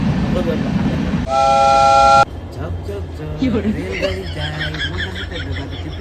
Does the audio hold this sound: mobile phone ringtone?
no